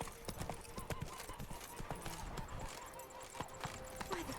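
A horse trots on hooves in The Witcher 3, a quick, close clip-clop rhythm over a busy game background for a few seconds.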